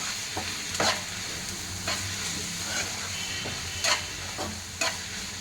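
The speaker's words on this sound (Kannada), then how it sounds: "ಇದೆಲ್ಲ ಬೆಣ್ಣೆಲೆ ಫ್ರೈ ಮಾಡಿದರೆ ಚೆನ್ನಾಗಿರುತ್ತೆ ಟೇಸ್ಟು." Ingredients including four chopped tomatoes frying in butter in a pan for paneer butter masala, a steady close sizzle with occasional stirring scrapes and clinks, no talk.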